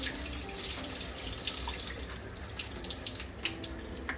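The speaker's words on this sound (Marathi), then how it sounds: "डाळ सहा ते सात पाण्याने मी स्वच्छ धुवून घेतलेली आहे" Mixed dal lentils washed in water: faint, continuous splashing and trickling water in a kitchen vessel, steady throughout with no voices.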